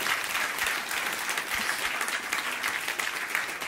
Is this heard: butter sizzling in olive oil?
no